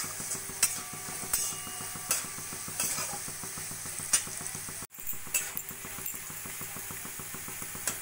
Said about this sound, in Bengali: নুনটা দিয়ে আর কিছুক্ষণ ভাজা ভাজা করে নেব।